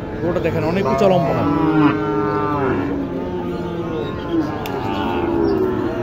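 Cattle at a rural cattle market in Naogaon, with Sahiwal and local breeds, one animal giving a long, loud, wavering moo close by, followed by softer lowing and faint crowd murmur.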